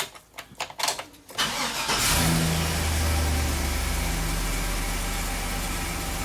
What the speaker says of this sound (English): Alright, so the engine is running.